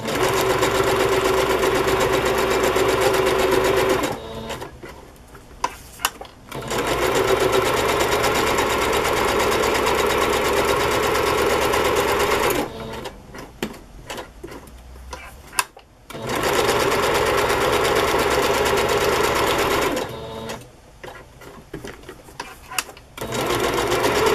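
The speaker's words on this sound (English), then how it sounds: "I like to go around twice when I messy stitch because maybe it just looks more like I did it on purpose" A sewing machine stitching a junk journal embellishment runs in three long, steady whirring bursts, with quieter pauses of faint handling and clicks between them.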